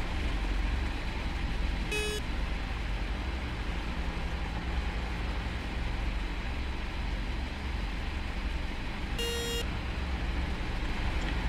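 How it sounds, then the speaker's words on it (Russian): Two short car horn honks sound in a City Car Driving video game on a wintry, icy city street, spaced several seconds apart over a steady low engine rumble. "поехали, а то там бибикают"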